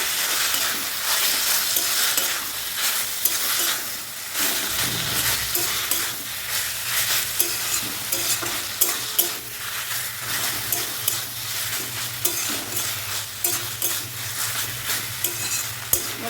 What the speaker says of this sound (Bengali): তো এটাকে এইভাবে ভালো করে মিশিয়ে নেব।